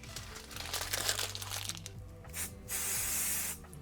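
Spray adhesive hisses from a can onto Halloween fabric printed with vines and spiders in an embroidery workspace, several short bursts followed by one longer, steady spray, fairly quiet and close with no talking.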